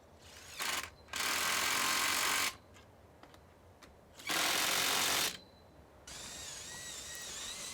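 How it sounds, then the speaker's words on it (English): A power drill whirs into timber in two bursts of about a second each, separated by quieter ratcheting and handling noise, followed by a steady higher whine. "Drill and bolt the timber verticals to the flat plates located on the side rails."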